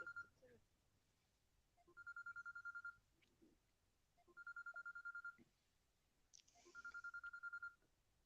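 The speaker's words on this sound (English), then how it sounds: "Someone's getting a phone call." A phone rings in a repeating electronic tone, three one-second bursts separated by pauses of about a second, fairly faint against a quiet room.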